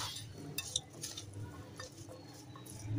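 A spoon stirs and mixes chana chaat in a bowl, giving soft, quiet clinks and scrapes of metal against the dish in a loose, uneven rhythm.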